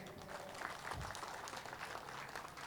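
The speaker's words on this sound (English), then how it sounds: "Give yourself one big clap." Audience applause at an outdoor protest rally, a faint, distant wash of clapping from a crowd, steady and soft for a few seconds without voices standing out.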